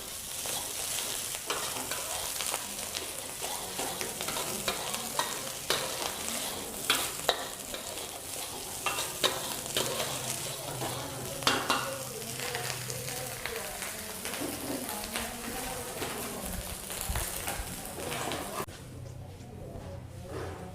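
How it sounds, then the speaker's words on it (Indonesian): Fried rice sizzles in a pan while a spatula stirs and scrapes through it, a steady crackling fry with repeated scraping strokes and clacks, close and continuous, with a voice speaking faintly at times. "Sambil menunggu, kita tetap mengaduk"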